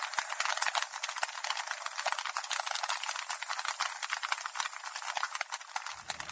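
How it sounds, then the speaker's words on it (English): An underwater recording off the coast carries a dense, steady crackle of snapping shrimp. A piercing, continuous high-pitched tone from a seal scare device runs over the crackle, and both persist throughout at a moderate level. "The first one is sort of snap, crackle and pop sound, what's commonly called snapping shrimps."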